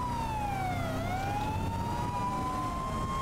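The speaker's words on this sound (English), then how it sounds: "I have sirens on." A wailing emergency vehicle siren in Grand Theft Auto V Online sweeps down and then slowly climbs again, loud and continuous with no voices.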